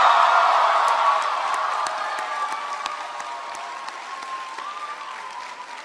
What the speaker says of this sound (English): can everybody please give a big round of applause to Rachel for that great introduction?